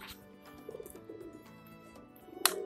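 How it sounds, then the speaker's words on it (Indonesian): A Javan pigeon of the Jawa Sungut type coos softly in short, rolling phrases, close by, with a few quieter bird calls and a brief sharp noise near the end. "ini ada cowokan merpati Jawa ya, CS ya, Jawa Sungut."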